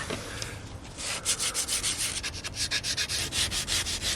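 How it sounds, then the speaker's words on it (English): Sandpaper rubs back and forth over a wooden bed frame in quick, regular strokes, a close, fairly quiet scratchy rhythm with no talking. "Right, let's get these sanded."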